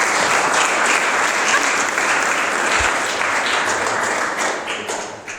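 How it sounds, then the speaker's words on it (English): Wedding guests at a ceremony give the couple a loud, dense round of applause, sustained and close, thinning slightly toward the end. "let's start by giving these two an amazing round of applause"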